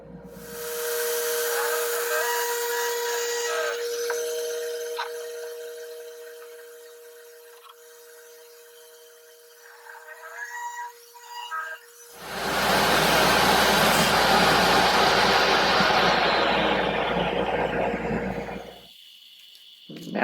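A power saw with a taper jig cuts walnut table legs: a long steady hum and quiet shop noise give way to a loud, close burst of rushing cutting noise lasting several seconds before stopping abruptly.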